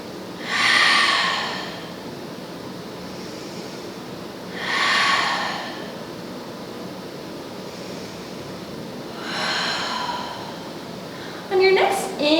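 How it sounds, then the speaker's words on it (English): Three slow, deep breaths during a beginner yoga pose, each a soft airy rush spaced a few seconds apart over a quiet hiss, with a brief rustle at the end. "3 breaths here."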